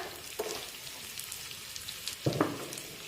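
Chopped onion, carrot and peas sautéing in a pan over a medium flame, a soft steady sizzle broken by a few clinks and stirring scrapes.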